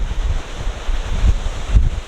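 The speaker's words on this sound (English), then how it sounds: "Still windy" Steady wind buffets the microphone out on the open deck of the Disney Wonder cruise ship at sea, a continuous low rumbling roar with a couple of stronger gusts and no voices.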